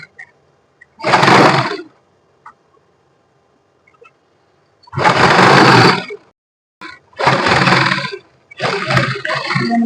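An electric sewing machine stitches the folded sleeve of a suit in loud buzzing runs of about a second each, separated by pauses, with a faint click between them.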